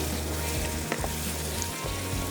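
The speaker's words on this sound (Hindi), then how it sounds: "अब इसको अच्छे से भून लेते हैं।" Tomatoes and beef fry in a pot in a steady, dense sizzle with a few faint stirring scrapes. The sound is close and continuous, and no one speaks.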